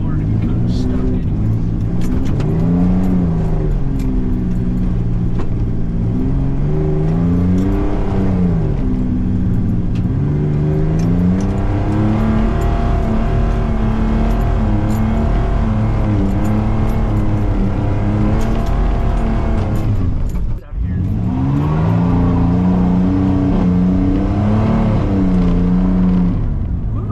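A two-wheel drive pickup truck's engine revs repeatedly while driving, rising and falling in pitch with a loud, close, steady drone and a brief dip near the end, with people talking over it.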